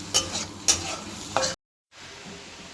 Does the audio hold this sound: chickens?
no